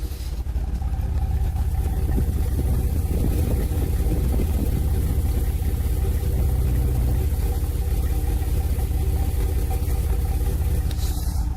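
A 2003 Nissan 350Z with random misfires (code P0300) runs with a steady low rumbling engine and exhaust drone, continuous and fairly loud, with uneven roughness throughout.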